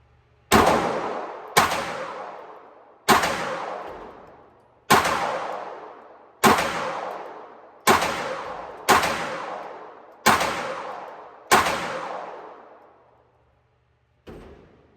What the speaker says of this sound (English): let's get some shots in the magazine and let's see how she shoots